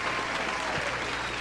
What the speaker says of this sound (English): Marquise, can we get some applause for her?